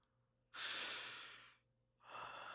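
A slow, deep breath: a long, loud broadband inhale lasting about a second, a pause, then a second strong airy breath beginning, close to the listener with no talking.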